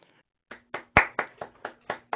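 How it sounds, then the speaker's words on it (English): A few hands clap in a sparse, uneven run of about eight claps for a speaker finishing a talk on field-based crop phenotyping research, close and distinct against near silence. "I'm sure everybody else is clapping as well"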